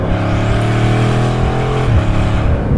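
Bugatti Chiron Super Sport engine pulling hard on boost under full throttle, a loud sustained interior drone with rising harmonics and a brief shift-like dip near the end, no talking.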